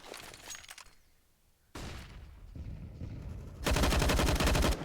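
Gunfire in Counter-Strike on the Inferno map as players spray down the banana position: short rattling volleys, then a long, loud, continuous automatic burst near the end, with the sharp crack of each shot.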